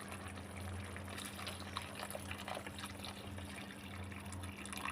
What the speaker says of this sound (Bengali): এখানে আমি আরও একটু জলটা দিয়ে দেবো।